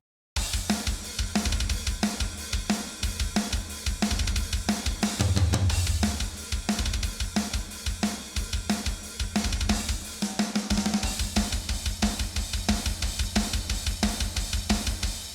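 A black metal drum bus squeezed by SSL-style glue compression, a dense, relentless wall of fast kick and cymbal hits with snappy transients, loud and continuous throughout.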